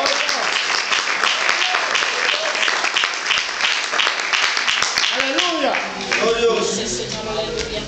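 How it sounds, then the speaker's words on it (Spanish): A church congregation applauds together, a dense and loud burst of clapping. The applause fades toward the end as voices and shouts from the crowd come through. "Alguien se atreve a dar un aplauso al Señor."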